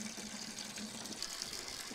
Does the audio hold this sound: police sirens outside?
no